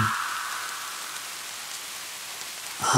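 Steady rain pours down at night in a dark, empty spot, a constant even hiss filling the whole stretch with a louder burst of sound near the very end.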